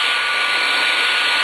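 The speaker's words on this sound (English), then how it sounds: "I just put the blow dryer on hot, and I put it on high" A hair blow dryer set to hot and high blasts a loud, steady, close whoosh with an even fan whine, running unbroken and alone without any voices.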